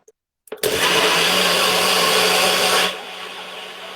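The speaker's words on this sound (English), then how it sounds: "I'm going to mix this now, so it's going to be a little bit loud." A blender runs loud and steady for about two and a half seconds while mixing a smoothie, then cuts to a lower hum as it winds down, after a couple of brief clicks at the start.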